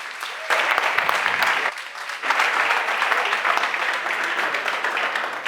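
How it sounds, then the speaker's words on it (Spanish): A church congregation bursts into loud, sustained applause to welcome guest preacher Paul Weaver, with a brief dip in the middle before the clapping surges again and continues steadily to the end. "Fuerte el aplauso para él."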